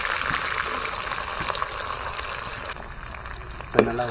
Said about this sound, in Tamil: இப்போ வெங்காயம் நல்லா வதங்கி வந்துட்டுருக்கு.